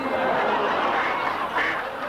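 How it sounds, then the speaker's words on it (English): A duck quacks in a dense, continuous burst of rasping calls, loud and close, with no clear speech over it. "A lady with a duck."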